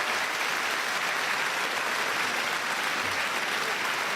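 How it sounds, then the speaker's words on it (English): Comedy show audience applauding the Deputy Lord Mayor, a steady, dense wash of clapping that holds evenly for the whole stretch with no voices on top. "A lovely round of applause"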